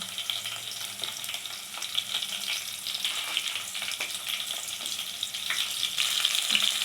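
Eggplants fry in oil with curry leaves, giving a steady, close sizzle with crackling pops and occasional stirring scrapes throughout.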